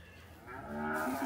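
A cow in a snowy corral lets out one close, low moo that swells in loudness and holds at the end, with no voices.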